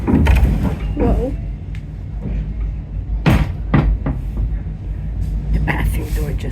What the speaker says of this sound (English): The bathroom door just slammed shut.